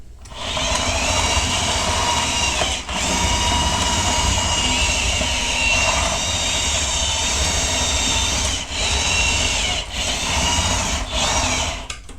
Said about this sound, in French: Donc voilà pour la partie moteur, ça fonctionne parfaitement.